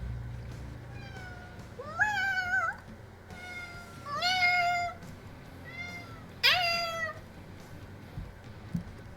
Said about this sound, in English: He hears you and Moon Pie meowing and he's alarmed.